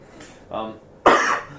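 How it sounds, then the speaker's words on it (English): Two short coughs, the second louder and harsher, close to the listener. "I got a bit of a cough."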